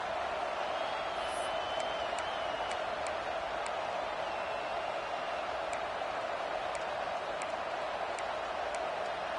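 A football stadium crowd at a Tennessee vs South Carolina college game keeps up a steady, loud roar with faint whoops and sharp ticks scattered through it, continuous and distant-sounding.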